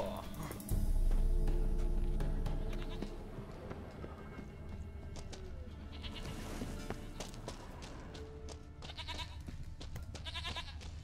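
Goat bleats in The Witcher 3: Wild Hunt, heard over steady game ambience with hoof-like clip-clop and a loud low rumble early on, while someone speaks over the scene.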